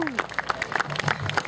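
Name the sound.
audience applause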